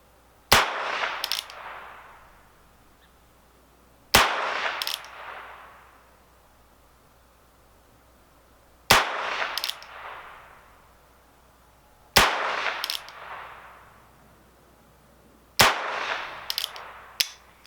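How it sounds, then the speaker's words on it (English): Five loud, sharp gunshots from a Heritage Rough Rider revolver with a 16-inch barrel ring out at an outdoor range, spaced several seconds apart, each followed by a brief decaying echo. "There's my 6 shots."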